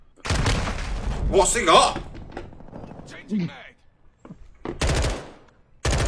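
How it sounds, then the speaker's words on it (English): Bursts of automatic gunfire rip through walls in a Call of Duty match, loud and clipped, separated by gaps where players talk. "Yeah, he's shooting through the walls."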